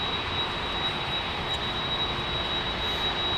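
Aircraft climbing steeply, a loud, continuous engine roar filling the air with a steady rumble and broad rushing noise, no voices heard.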